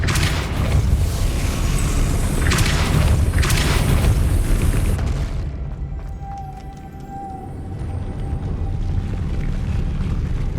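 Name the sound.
Depulso spell cast in video game Hogwarts Legacy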